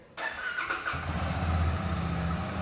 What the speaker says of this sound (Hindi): सबसे पहले बाइक को हल्का सा स्टार्ट करके आपको ऑल ओवर जो आवाज़ है बाइक की वो सुना देते हैं